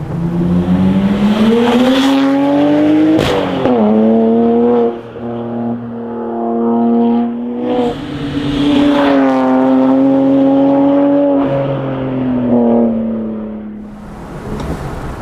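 A BMW 135i engine revs hard while driving and climbs through the gears, pitch rising and falling with shifts, loud and close, with no talking.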